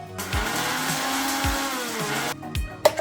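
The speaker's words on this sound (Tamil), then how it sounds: "இனி உப்பு போட்டு அரைக்க போகிறேன்." A mixer grinder churning vada batter with salt, a loud steady motor whir with rising and falling pitch sweeps, then a pause and a brief clatter at the end, with no talk.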